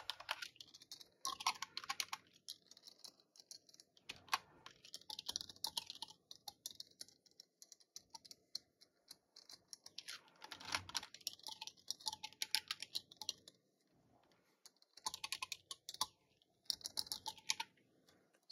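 A link is typed on a desktop computer keyboard, with close, rapid clusters of light clicky keystrokes broken by brief pauses across the whole stretch.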